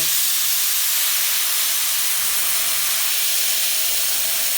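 A steam cleaner blasting pure steam onto coils, a loud, continuous, even hiss that holds steady throughout with no voices.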